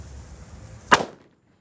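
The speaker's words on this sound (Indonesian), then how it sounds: "Lanjut kita nyalakan mercon Colorful Thunder." A Colorful Thunder firecracker bursts outdoors in a single loud, sharp bang that decays quickly into silence after a second of quiet ambient hum.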